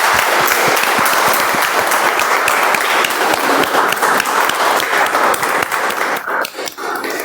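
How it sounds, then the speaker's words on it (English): Loud, dense applause from a Toastmasters meeting audience welcoming the Toastmaster of the day, sustained steadily for about six seconds before thinning out near the end. "with a huge round of applause, let's all welcome Toastmaster of the day"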